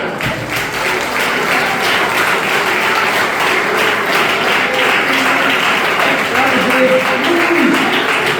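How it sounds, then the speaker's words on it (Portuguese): Loud, sustained applause from a church congregation during a sermon, a thick continuous roar of clapping hands at close range throughout. "Dê uma salva de palmas para você."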